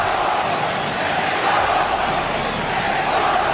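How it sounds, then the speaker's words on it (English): A capacity boxing crowd at a WBC super lightweight title fight roars and chants as one, a dense, steady wall of loud massed voices with no pauses or break in intensity. "capacity crowd chanting Mexico, Mexico as we begin the fight"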